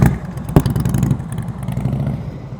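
A motorcycle engine with a shaking engine, heard during slow-speed riding practice around cones: a loud, close, uneven putter and clatter with a sharp knock near the start, easing to a lower steady rumble.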